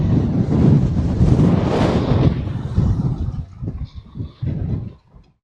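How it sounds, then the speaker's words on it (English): Wind sweeps across an open outdoor spot with no trees for shelter, a loud, steady buffeting rumble against the microphone that eases and gusts unevenly toward the end. "because there's no trees or anything blocking where we are, it's all wind here"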